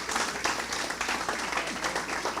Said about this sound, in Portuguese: aplaudo ao Senhor por isso